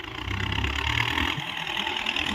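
A Kubota M9000 turbo intercooled four-cylinder diesel tractor idles smoothly and steadily, a close, even engine hum with no talk over it.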